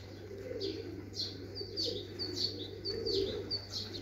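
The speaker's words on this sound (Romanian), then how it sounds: "Porumbei de maraton" Marathon racing pigeons coo softly and repeatedly, with chirps and occasional wing flaps over a steady low background hum.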